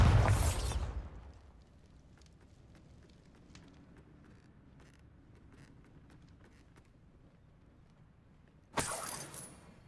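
Bombarda blasting spells explode in Hogwarts Legacy during a spider fight in a cellar. One sharp, loud blast opens the clip and another hits near the end, with a low, quiet rumble between them.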